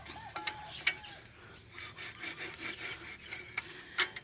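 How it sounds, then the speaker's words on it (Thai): Rhythmic rasping strokes of a hand saw biting through a tree branch, steady back-and-forth cutting at close range with a few sharp clicks, during garden pruning. "เนี่ยก็จะตัดตรงนี้ ก็เลื่อย"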